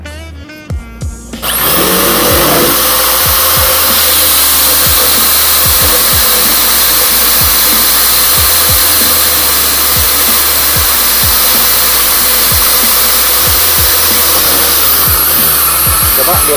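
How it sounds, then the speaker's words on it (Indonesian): A Kyuho K550i electric hand drill with a 13 mm chuck bores through wood with a wood bit, whining loudly and continuously close by after a brief start, with faint low knocks beneath the motor. "langsung kita cek untuk yang pakai mata bor kayu ya"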